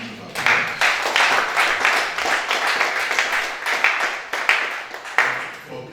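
An audience at a critical care medicine conference breaks into steady applause, many hands clapping in a dense, even wash that carries on for several seconds, moderately loud with scattered sharper claps.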